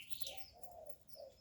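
Hummingbirds and finches at a feeder give faint, soft chirps and tweets in quick succession over a brief moment.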